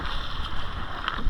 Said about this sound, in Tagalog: Oh, malakas yung hangin.